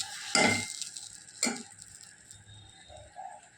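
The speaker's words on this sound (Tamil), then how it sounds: "ஒரு கப் கோதுமை மாவுக்கு அரை கப் பாசி பருப்பு நல்லா கலந்து விட்டுறணும்" Wheat flour and moong dal being stirred together in a bowl, with two short scraping strokes early on and faint clinks afterwards, heard alone.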